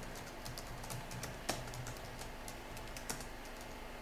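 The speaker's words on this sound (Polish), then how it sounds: "Wpisujemy hasło rota." Rapid keystrokes on a computer keyboard as a password is typed during a Linux install, a quiet steady patter of clicks close by with two sharper key presses standing out.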